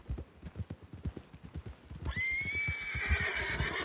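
A horse in the video game Red Dead Redemption 2 clip-clops along in a steady trot, then lets out a loud, drawn-out whinny over the continuing hoofbeats.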